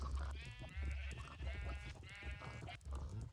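Sheep in the Minecraft 1.6 survival game bleat repeatedly in a run of wavering, nasal baas. The calls are close and clear, with steady low game background underneath.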